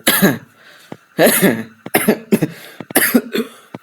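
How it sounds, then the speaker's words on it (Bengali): A person coughs several times in a row, loud and close, in short harsh bursts separated by brief pauses, with a throat-clearing quality and no speech. "শোনো ভাই, কাশি আসছে।"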